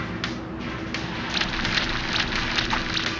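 Stone Rain attack in the monster-taming game Monster Sanctuary: a steady, dense patter of pelting impacts, like falling stones, with small sharp hits landing over it for a few seconds.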